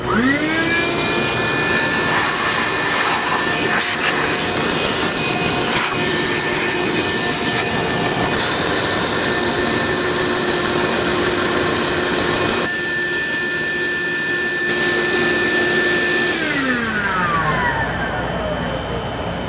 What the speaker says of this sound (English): I'm actually gonna use the shop vac.